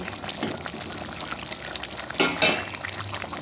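Sea fish in a spicy oil-based curry gets stirred in a pan, a steady low simmering sizzle broken by two sharp scraping stirs near the end, with no talking.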